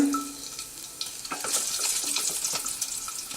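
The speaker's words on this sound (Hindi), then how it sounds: "अब हम इसमें डालेंगे थोड़ा सा जीरा, लहसुन की कलियां," Cumin seeds and garlic cloves sizzle in melted ghee in a pan for matar paneer, a close crackling hiss with scattered sharp pops and scraping, growing busier as it goes, no voices.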